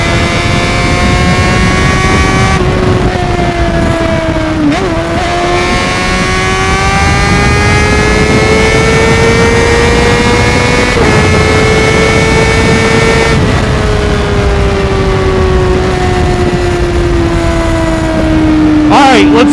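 Heavy, constant wind roar while riding a Honda CBR600RR motorcycle at speed. The engine's whine rises and falls in pitch beneath the loud wind throughout.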